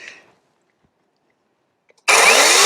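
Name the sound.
chainsaw cutting a stump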